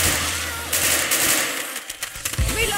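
Rapid automatic gunfire from a zombie-shooter firefight in Left 4 Dead 2, a dense, loud burst of shots that thins into scattered cracks near the end.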